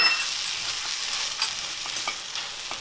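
Figs, dates and nuts being stirred in a hot pan on the stove for energy bites, giving a steady close-up sizzle with soft scraping strokes throughout, no talking.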